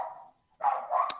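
A dog barks at home after a doorbell rings: a sustained yelp, a short pause, then two more close, loud barks in quick succession with no one speaking.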